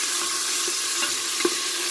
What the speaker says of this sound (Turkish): İçerisine küçük doğradığım bir adet soğanımı ekliyorum.